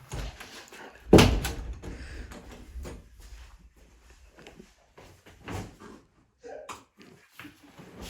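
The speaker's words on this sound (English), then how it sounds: "I'm locking the door." A door slams shut with a sharp, loud bang near the start, followed by softer knocks, clicks and handling noises, fitting a lock being fastened in a quiet room.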